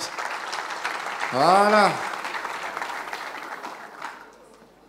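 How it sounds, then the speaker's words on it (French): Audience applause at a panel discussion on adapting to a new law on cheques, a brief round of clapping running under talk, with a short harmonic vocal exclamation partway through. "On l'applaudit s'il vous plaît"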